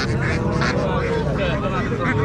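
A goose at a village market gives a run of loud, nasal honks in quick bursts, set against crowd chatter and market bustle.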